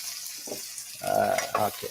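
Bell pepper frying in oil in a pan, a soft sizzle that swells into a brief louder crackle near the end, faint and close.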